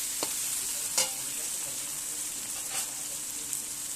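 Tomatoes frying and sizzling in a pan for gandhoraj chicken, with a steady hiss and a few scraping spoon strokes spaced through it, close and fairly loud, no talking.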